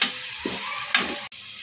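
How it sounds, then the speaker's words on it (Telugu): Ginger paste fries in a pan, giving a soft hiss broken by a few light scraping stirs and a quick tap, close and fairly quiet. "ఈ అల్లం అనేది పచ్చివాసన పోయేదాకా ఫ్రై చేసుకోవాలి"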